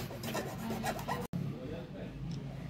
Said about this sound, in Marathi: आपण फाईलने सगळीकडून हा घासून घेणार.